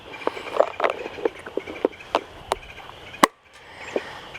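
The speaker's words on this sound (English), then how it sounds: "We got a woodpecker" A woodpecker hammers at wood outdoors, sharp irregular knocks at mid distance that spread across a quiet background, with one louder strike near the end.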